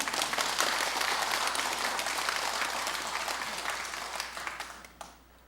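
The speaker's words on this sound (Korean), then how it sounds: "박수 치려면 다 쳐야지." A Sunday dharma-talk audience at a Buddhist temple bursts into dense, steady applause that stays loud, then thins out and tapers toward the end with a few last claps.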